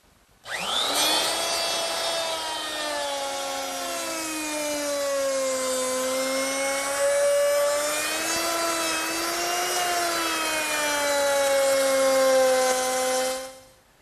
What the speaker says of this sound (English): I'll make that rabbet using my 3/8 inch rabbiting bit in my router